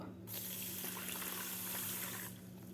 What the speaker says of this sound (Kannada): ಚೆನ್ನಾಗಿ ತೊಳ್ಕೊಳ್ಳೋಣ ನೀರು ಹಾಕ್ಬಿಟ್ಟು.